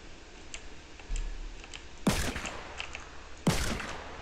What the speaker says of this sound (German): Oh, hier schießt jemand.